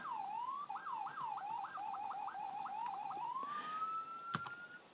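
A rapid, warbling electronic ambulance siren from a video game (Garry's Mod) yelps repeatedly, then settles into a steady rising wail, loud and close with no talking.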